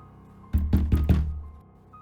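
A sound effect of knocking on a window in a scary story: four heavy, evenly spaced thuds, loud and close, with a short fading tail and no voice.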